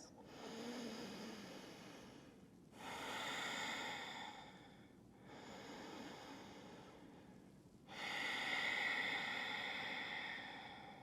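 Slow, deep breaths during a held yoga pose in a headstand practice session, long airy inhales and exhales alternating steadily, close and soft with a faint hiss.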